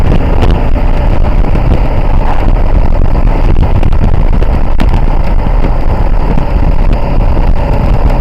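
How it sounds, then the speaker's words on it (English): Loud, constant wind buffets the microphone with a heavy low roar that never lets up, masking everything else. "So it was a bit windy."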